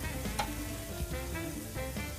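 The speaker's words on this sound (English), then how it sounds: "As you can hear, the grill is sizzling, so the fire is at the right heat." Continuous crackling sizzle of chicken cooking on a hot grill, close and steady, with no talking.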